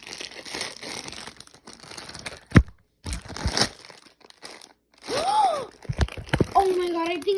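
Scissors cutting open Labubu blind-box packaging, with crinkling plastic and paper tearing in short bursts between pauses, close up, mixed with a child's chatter.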